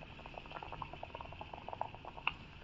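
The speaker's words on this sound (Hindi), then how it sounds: "अब इसको हमारे आलूओं को अब एक एक करके कढ़ाई में डालते जाएंगे" Potato pakoras in gram flour batter fry in a kadhai of hot oil with a faint, steady bubbling and patter, soft and fairly close, with no speech.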